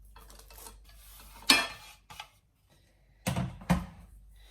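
A few sharp scraping clatters of a spoon stirring nuts into chocolate paniyaram batter in a bowl, with a quiet pause between bursts, close and fairly soft.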